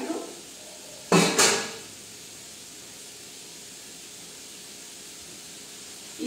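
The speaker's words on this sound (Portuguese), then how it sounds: "Vou colocar mais um caldinho," Boiling broth and water poured into a pan of shrimp risotto give two sharp sizzling hisses close by, then fade into a quiet steady background.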